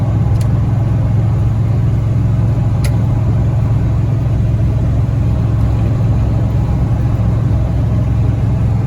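A steady, loud in-cabin drone inside a second-generation Dodge Ram 1500 with a Magnum V8 stroker engine and homemade exhaust, cruising about 75 mph at 2,500 RPM, with constant low hum and no talking.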